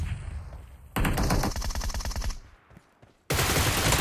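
Rapid automatic gunfire from a shooter video game, a dense burst of shots lasting about a second and a half, then a pause before another loud burst starts abruptly.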